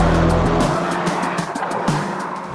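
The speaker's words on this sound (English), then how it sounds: "Next up, we have the Renault Megane." Renault Megane RS hot hatch driven hard on a race track, engine roaring steadily with tyre squeal and skidding, loud and close throughout with no talk.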